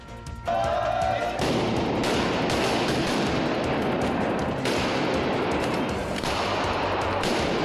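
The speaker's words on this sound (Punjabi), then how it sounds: "ਦਰਜਨਾਂ ਵਿਅਕਤੀਆਂ ਨੇ ਬੰਦੂਕਾਂ ਅਤੇ ਪਿਸਤੌਲਾਂ ਦੇ ਨਾਲ ਹਵਾਈ ਫਾਇਰ ਕੀਤੇ" Dozens of people fire guns and pistols into the air in celebration at a gurdwara, making a dense, continuous crackle of overlapping shots and thuds that starts within the first half-second and fills the whole stretch loudly.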